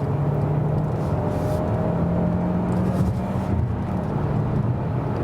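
A Hyundai Santa Fe in sports mode accelerates from about 80 km/h on the Autobahn, its engine note rising as a steady whine over loud road and wind roar inside the cabin.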